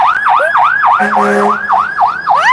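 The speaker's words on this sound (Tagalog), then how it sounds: "Ayan, may ambulansya pa." A loud, close ambulance siren wails in a steady rising-and-falling cycle, repeating rapidly and dominating everything else.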